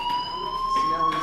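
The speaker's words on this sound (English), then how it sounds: "do you hear that fire alarm? That means you should be outside." A fire alarm rings inside the video game Life is Strange, a steady electronic tone with bright overtones that carries on without a break through the short moment, with some background voice or game sound underneath.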